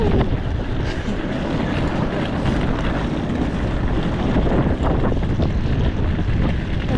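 Strong, cold wind blowing at Oakland airport, roaring steadily and loudly into the microphone with constant buffeting and no speech over it.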